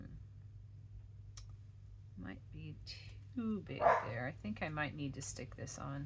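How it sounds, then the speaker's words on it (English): A dog barks indoors, sharp short barks coming through in a cluster partway through, while a person keeps talking nearby over a low steady hum. "Sorry about my dog barking."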